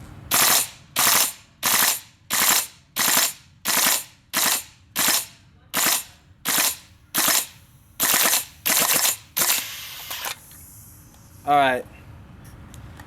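A GHK M4 airsoft rifle on a cold sixth magazine fires about fourteen sharp, evenly spaced semi-auto shots, each a loud crisp crack with mechanical clatter, before the firing stops and a short squeaky mechanical sound follows.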